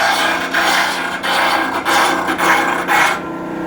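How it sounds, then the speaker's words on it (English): An electric sander works a wooden knife handle, giving a continuous loud rasping, rubbing whir that pulses slightly as the handle is moved against it, then trails off near the end with no voices. "The last step with the woodwork on the handle is to turn on the sander"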